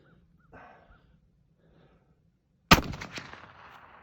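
A single loud, close shot from a .50 caliber muzzleloader rifle fired outdoors, a sharp blast with a rolling decay, preceded by near silence with faint movement sounds.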